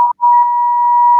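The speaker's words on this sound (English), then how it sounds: "Beep beep." A single clean electronic beep, a steady pure tone held for just over a second after a brief click at the start, loud and alone.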